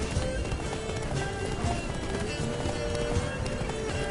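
A horse ridden by Geralt gallops in a video game, its rapid hoofbeats drumming steadily without pause under a dense, constant wash of game sound.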